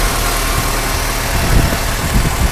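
A 2000–2005 Honda Civic engine idles steadily and loudly up close, with a dense rumbling drone and a faint shudder from a worn motor mount shaking the car.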